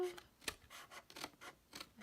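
Small scissors snip through cardstock in a quick series of faint, crisp cuts, roughly six short strokes in close succession, quiet and close.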